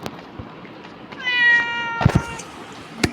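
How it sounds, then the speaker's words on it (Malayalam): A Minecraft cat meows once, clear and close, followed by a few short clicks and thumps from the game. "അപ്പോൾ ഈ പൂച്ച സാധനം അതിൻ്റെയാണ് ഒച്ച കേൾക്കുന്നത്."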